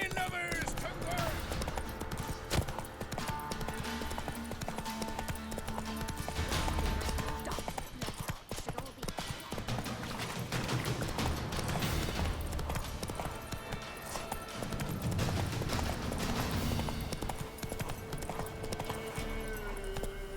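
Horse hooves galloping in the game The Witcher 3, a continuous rhythmic clip-clop under dense music and ambience, with voices talking over parts of it.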